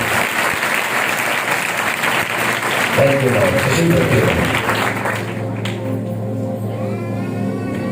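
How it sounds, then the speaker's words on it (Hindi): A church congregation applauding, steady loud clapping throughout while a voice speaks over it and musical tones rise toward the end. "जोरदार तालियां बजाने जा चाहिए।"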